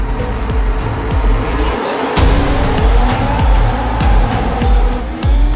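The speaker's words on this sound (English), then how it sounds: "We are capturing and driving the cars that Brad and Damson are in" A race car driven for filming of an F1 movie, its engine roaring loud and close with repeated tire squeals and skidding, over a steady engine drone with a brief dip around the second mark.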